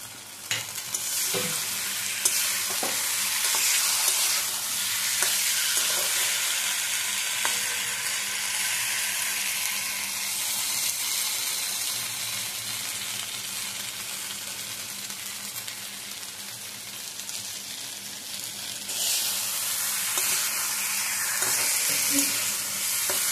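Masala sizzling and frying steadily in a pan with shahi garam masala added for tel potol, a continuous loud hiss broken by scraping stir strokes, with no talking.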